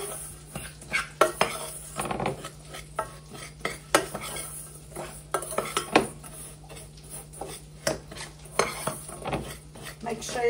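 Sweet and sour sauce with brown sugar being stirred in a pan for pineapple kielbasa, a utensil scraping and clinking against the pan in irregular strokes over a soft steady sizzle, close and continuous.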